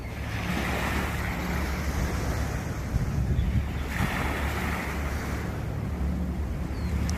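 Steady roar of sea waves washing in continuously on the back side of an island, with wind buffeting the microphone throughout; no voices.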